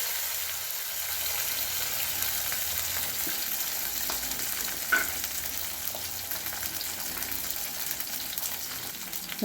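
Sambar onions (shallots) fry in a pan for vathal kuzhambu, giving a steady, even sizzle that holds close and constant throughout, with a few faint stirring taps.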